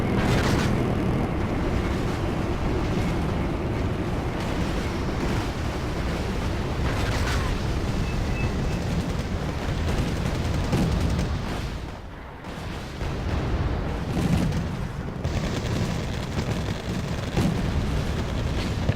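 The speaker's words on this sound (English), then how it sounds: "SU-24 coming in for bombing run." Continuous heavy rumbling explosions and artillery fire fill a Wargame Airland Battle match as an SU-24 makes a bombing run on M1 Abrams tanks, loud dense booms overlapping with barely a pause.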